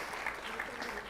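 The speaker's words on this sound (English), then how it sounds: "Please give the final round of applause for our lovely guest here who waited quite patiently, actually." An audience at a business conclave applauding a guest, a brief, steady patter of clapping from a crowd with no one talking.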